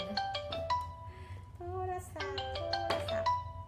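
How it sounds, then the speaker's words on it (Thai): A mobile phone rings with a bright, repeating melodic ringtone, fairly loud and close, while faint background voices sit underneath. "โทรศัพท์"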